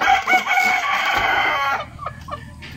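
A malatuba rooster crows once nearby, a loud drawn-out call that trails off into quieter farmyard background sounds.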